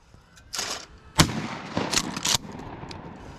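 A shotgun fires at clay pigeons outdoors, with one sharp, loud blast standing out around a second in, while other bursts of noise and brief voices come and go around it.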